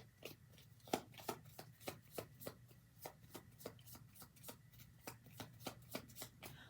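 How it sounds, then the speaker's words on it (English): A deck of tarot cards is shuffled by hand in soft, regular riffling bursts, about two to three per second, quiet and close with no voices. "while I shuffle the cards"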